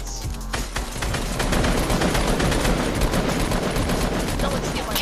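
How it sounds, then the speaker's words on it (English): Sustained Fortnite gunfire, with rapid overlapping shots forming a dense fusillade of cracks across the whole span, loud and close, with a voice mixed in at moments. "Why are you guys shooting down the one support that he has?"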